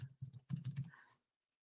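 Quick keystrokes on a computer keyboard as a short description is typed into a knowledge base search field, a burst of close clicks lasting about a second before falling silent.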